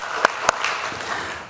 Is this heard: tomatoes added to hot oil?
no